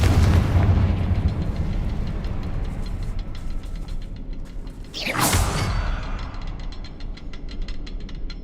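In Hogwarts Legacy, a Confringo fire spell lands with a heavy rumbling blast, then a sharp whooshing burst midway, trailing off into crackling debris.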